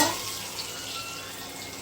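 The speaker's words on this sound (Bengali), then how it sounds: "এই আলুটা ছেড়ে দিচ্ছি, আলুটা লাল লাল করে ভাজা হবে।" Potatoes fry in a pan for aloo paneer curry, a soft, steady sizzle with a brief louder burst at the start, fairly faint.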